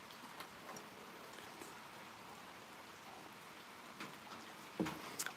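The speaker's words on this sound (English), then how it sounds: "The rain is picking up out there." Rain falling on a metal roof over a porch on a rainy morning, a faint, steady patter with a few sharper drips and knocks, soft and continuous in the background.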